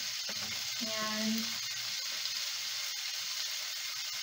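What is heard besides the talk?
sausage sizzling while browning in a pan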